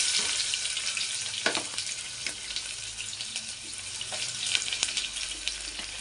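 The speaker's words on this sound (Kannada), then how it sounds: "ಇದೊಂದು ಸ್ವಲ್ಪ ಫ್ರೈ ಆಗಲಿ. ಈರುಳ್ಳಿ ಹಾಕೋತಾ ಇದ್ದೀನಿ." Onions sizzle in a pan of ghee and oil with bay leaf and whole spices for vegetable pulao, a steady close crackling hiss broken by occasional clinks and stirring scrapes, with no talking.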